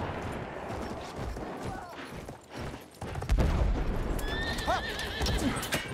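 A horse in Battlefield 1 whinnies loudly and its hooves clatter in quick rhythm amid distant bursts of gunfire on a battlefield, the neighing rising clearly near the end.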